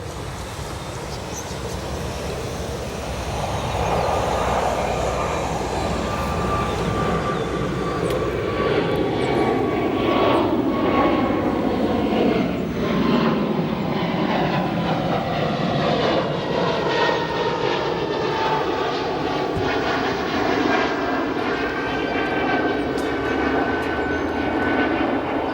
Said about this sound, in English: It is Southwest Airlines Flight 1688, a 737-700 arriving in from Austin